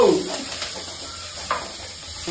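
Onions and green chillies fry and get stirred in a pan while making egg curry, giving a steady close sizzle with a few scraping stirs and no talk.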